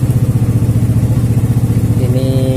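A Honda Megapro motorcycle engine idles close by with a steady, loud, even chugging pulse, and a thin whine rises briefly near the end.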